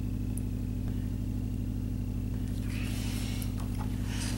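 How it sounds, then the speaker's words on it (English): Neighbors run and work on trucks nearby, heard as a steady pulsing engine idle that stays constant throughout, with faint clanks and scrapes of work coming in toward the end. "That's why you hear my neighbors right now running and fixing their trucks."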